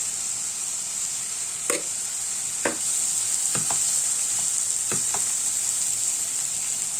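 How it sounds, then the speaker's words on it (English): Artichokes and mixed vegetables stir-fry in a pan with a loud continuous sizzle, broken by a few sharp spatula scrapes and taps close by. "Stir fry it for a couple more minutes, and then we shall leave it to cool down."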